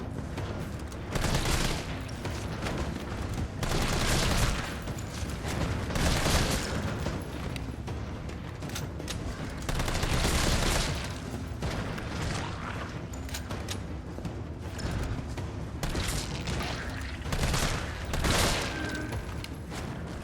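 Gunfire from the Resident Evil 3 Remake, heard as repeated bursts of shots and booms over about twenty seconds. Loud clusters alternate with brief lulls, and no one talks.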